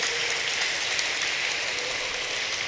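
A church congregation at a Mass for the feast of Saints Peter and Paul breaks into steady, dense applause that fills the whole moment at an even, moderate level with no voices on top.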